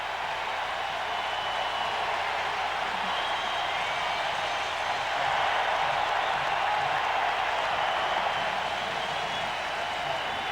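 A distant stadium crowd at an NFL game between the Cowboys and the Redskins in 1995 roars in a steady, muffled wash of cheering at the end of the first half, with faint commentary underneath.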